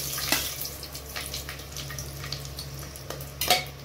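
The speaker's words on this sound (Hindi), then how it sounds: "इसे ऑयल गर्म होकर है, मैं गरम मसाला डाल रही हूँ।" Whole garam masala spices and black peppercorns for mutton biryani crackle and sizzle in hot oil, a soft steady frying hiss with a few sharper pops and a low kitchen hum underneath.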